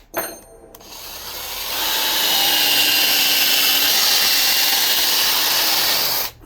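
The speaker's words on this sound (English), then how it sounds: "the best way that I've come to find out is I pre-drill it" A power drill whirs steadily, pre-drilling into a wood screen door at close range, spinning up after a brief start and running loud and continuous for several seconds before stopping.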